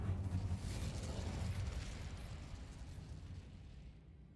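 A fire spell cast in Hogwarts Legacy: a loud, roaring burst of flame right at the start that rumbles on for several seconds, then thins and fades away, with no talk over it.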